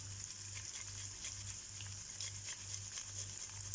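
Tomato paste frying in a pan, a steady soft sizzle with crackling hiss running throughout, close and continuous over a low regular electrical hum.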